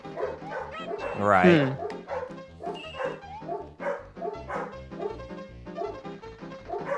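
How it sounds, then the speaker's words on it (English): Several dogs bark and yip repeatedly in the background of a home livestream, fairly close, while people talk over them. "Pardon me if you can hear the dogs barking in the background."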